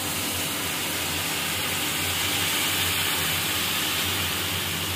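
Bengali fig curry (dumurer dalna) with fried potatoes simmering in water in a pan, giving a steady, dense hiss and bubbling that runs unbroken for the whole stretch at an even, fairly loud level, with no talking.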